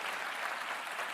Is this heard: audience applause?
yes